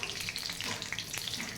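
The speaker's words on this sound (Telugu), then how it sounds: "కొంచెం ఆవాలు వేస్తున్నాను" Mustard seeds frying in hot oil as a tempering, a steady close sizzle with small crackles and pops throughout.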